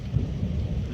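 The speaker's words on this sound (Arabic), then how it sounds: "رعود تبرق وترعد" Thunder rumbles low and steady through a heavy night rainstorm, a faint, continuous rolling roar with no voices over it.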